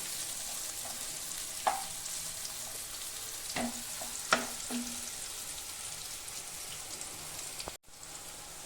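Dhoka lentil cakes fry in oil in a kadai after being flipped, a steady, moderate sizzle with a few sharp pops and spatula clicks scattered through it and a brief dropout near the end.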